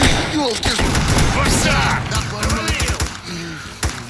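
Gunfire in S.T.A.L.K.E.R. Clear Sky: scattered close shots and bursts crack through a busy battle mix, with shouting voices over the top.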